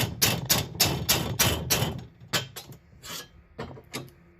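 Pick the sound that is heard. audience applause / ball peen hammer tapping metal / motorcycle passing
ball peen hammer tapping metal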